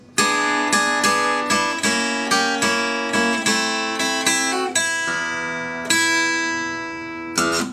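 An acoustic guitar plays the intro to a delta blues song in E, with a steady run of plucked, ringing notes and chords in a regular rhythm, played alone and up close.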